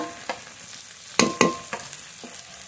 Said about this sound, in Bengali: সব মশলা একসাথে খুব ভালো করে কষিয়ে নেব।